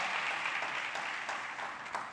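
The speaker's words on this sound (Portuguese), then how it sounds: "Dá um aplauso a Jesus aí." A church congregation applauds in a steady, continuous wash of clapping that sounds somewhat distant and moderately quiet, tapering slightly toward the end.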